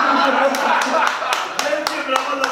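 Wedding guests clap at a reception, a steady patter of applause with a few sharper individual claps, heard beneath a continuous murmur of voices and talk.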